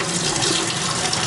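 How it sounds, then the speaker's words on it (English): Kitchen faucet with no aerator or screen, under enormous water pressure, gushes water hard into a sink in a steady, loud, unbroken rush with no voices over it. "So we have no aerator, which is why it flows the way it flows, but enormous water pressure"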